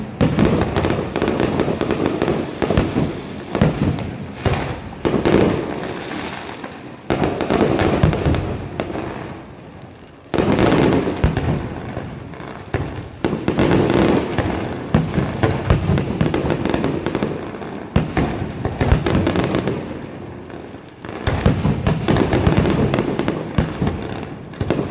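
Fireworks burst about a block away in dense, crackling volleys, loud and continuous for nearly half a minute with only a few brief pauses between barrages.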